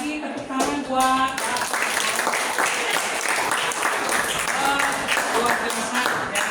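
Audience applause and clapping at a teaching practice assessment session in an Indonesian classroom setting, a steady dense clatter of many hands lasting throughout, with voices talking over it.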